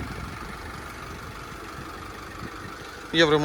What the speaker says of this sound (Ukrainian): Можна звернути увагу, як працює автомобіль. Тихесенько, ніяких лишніх шумів немає абсолютно.